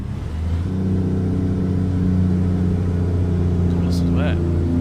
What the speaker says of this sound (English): The engine brake sounds really good.